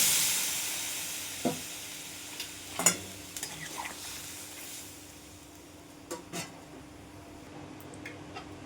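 A pan of fried mixed vegetables, six kinds in a vegetarian curry, sizzles and hisses after a splash of water, with a few distinct spatula knocks and stirring scrapes over a softening steam.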